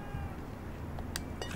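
A cat meows in The Evil Within 2, soft brief calls rising faintly over a steady, murky game background.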